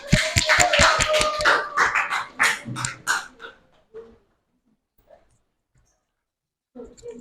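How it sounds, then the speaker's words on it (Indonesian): Classroom of teachers claps for group 6 as it comes forward, a burst of sharp, dense hand claps that thins out and stops by the fourth second, then near silence with a few faint soft sounds. "Beri tepuk tangan untuk kelompok 6."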